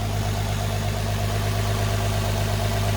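An Infiniti G35 engine idles at around 1,000 rpm, a steady, loud, low rumble with an even mechanical hum and no change in pitch across a few seconds.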